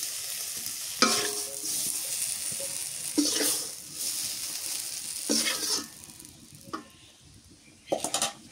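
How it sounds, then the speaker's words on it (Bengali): Eggplant frying and being stirred in hot oil in a pan, a steady sizzle broken by several sharp scraping stirs and clatters of the utensil, close and fairly loud. "বেগুনটা ভাজি হয়ে গেছে, নামায় নি।"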